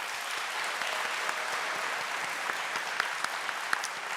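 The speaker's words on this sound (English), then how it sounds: "a huge round of applause for our RoboJackets" An audience at a FIRST Robotics kickoff ceremony in Atlanta breaks into steady, dense applause that fills the room evenly, with scattered sharper claps standing out from the wash.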